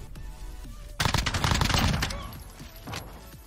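An SMG fires in the Call of Duty Modern Warfare beta, a loud rapid burst of automatic fire lasting about a second, then fading, with a shorter burst later on.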